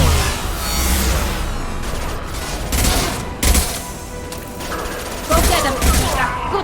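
Explosions and bursts of gunfire on Tuchanka in the video game Mass Effect, loud and close, with several heavy booms and rattling shots mixed with combat voices.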